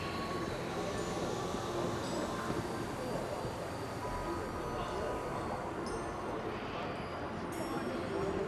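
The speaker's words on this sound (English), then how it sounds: "Down here is where we're going to be able to catch the train to the spaceport." Train arriving at ArcCorp plaza in the game Star Citizen, bound for the spaceport: a steady rumbling rail roar with faint high whines and tones layered over it, continuous and fairly loud throughout.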